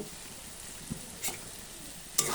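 Quiet, soft sizzle of lote fish frying in a pan with garam masala, with a few brief scraping stirs and a sharper clatter near the end, without any talk.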